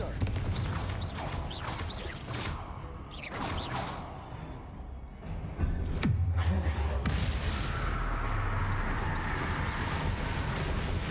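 A Confringo fire spell cast in Hogwarts Legacy, heard as a sharp whooshing burst that lands in a booming impact partway through, followed by sustained crackling rumble, with other spell and combat effects around it.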